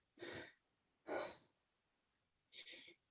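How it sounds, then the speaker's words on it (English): Ujjayi breaths are drawn audibly through the throat during a power yoga pose, three soft, breathy rushes with short pauses between them, close and quiet with no speech. "Ujjayi. Just breathing into this pose."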